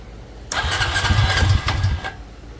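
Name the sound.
Honda Rancher ATV engine starting up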